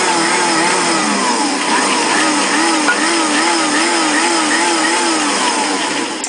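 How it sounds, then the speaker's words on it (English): Bosch mixer quickly blending dry ingredients for whole wheat corn bread, a loud steady motor whir with a slight wavering pitch, running continuously throughout. "so just blending it real quickly"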